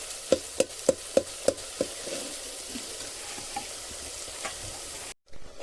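Onions fry in hot oil for a whole-brinjal curry, a constant crackling sizzle. A quick run of about six sharp taps on the pan opens it, then the frying carries on alone.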